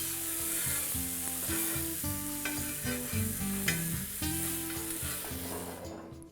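Chicken with ginger frying on a hot tawa, a steady close sizzle with repeated scraping stirs of a spatula against the metal, with no talk.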